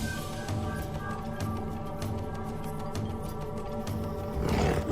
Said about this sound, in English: The deep rumble of a lion's roar can be heard 8 kilometers away.